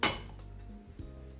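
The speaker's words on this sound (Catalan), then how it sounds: "ara comencem a tirar els ingredients dintre de l'olla" Ingredients such as salt, oil, garlic and bay leaf drop into a cooking pot for a celery and cabbage soup, with a loud metallic clatter at the start and a second smaller knock about a second later, close and clear.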